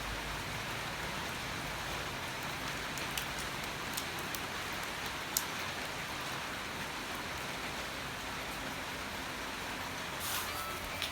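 Steady rain falls on a surface at an outdoor stage being prepared for a rehearsal, a dense continuous hiss with occasional louder drop impacts, close and even throughout with no talk.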